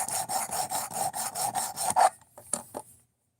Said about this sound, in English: like I'm scrubbing all the marker off